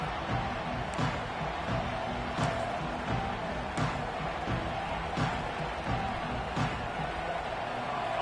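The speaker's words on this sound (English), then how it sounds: "This crowd ready to make its presence known." A stadium crowd roars in the College Football 26 video game, a constant dense wash of distant cheering with faint periodic thumps and no talking.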